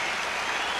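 The crowd at a 2002 UConn men's basketball game at Providence reacts to a foul call with a dense, steady wash of applause and crowd noise filling the whole moment.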